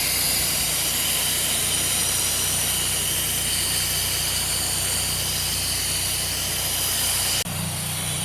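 Pressure washer spraying the front of a house in a pre-wetting pass, a loud, steady broadband hiss and motor drone running unbroken, shifting slightly at the very end.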